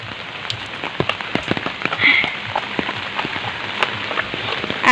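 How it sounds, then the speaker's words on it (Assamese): Steady rain patters on a surface, a dense wash of drops with scattered louder taps close by. "এয়া বৰষুণত আমি ছাতি লৈ আছোঁ"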